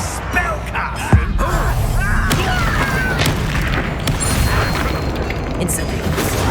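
Incendio and other combat spells fire off in Hogwarts Legacy: dense, loud magical booms and crackling impacts crowd a busy battle mix, with a sharp hit near the start.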